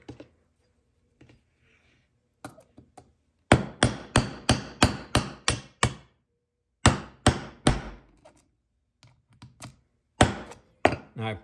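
Sharp hammer blows strike a copper rivet being set on a leather knife scabbard, coming in quick rhythmic bursts of several hits each, separated by short pauses and a few lighter taps.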